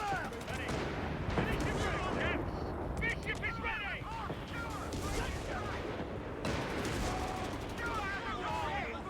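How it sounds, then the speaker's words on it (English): Repeated artillery shelling and gunfire in the World War II strategy game Company of Heroes 3 rumble and crack in dense bursts, with booming impacts and rattling fire overlapping across the whole stretch. "I'm continuing to just shell this location."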